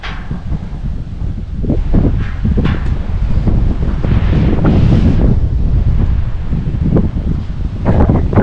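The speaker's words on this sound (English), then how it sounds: "Great day for wind." Gusty wind buffets the microphone on a mountain hike toward a fire tower, a loud, continuous roar that swells and eases in waves with no talking.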